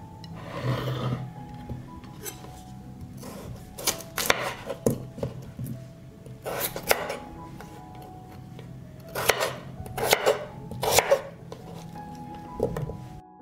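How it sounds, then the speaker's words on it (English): A knife chopping one kilo of potatoes on a board, with irregular bursts of sharp cuts spread through the stretch and quieter pauses between them, close and moderately loud. "I will cut 1 kilo of potatoes."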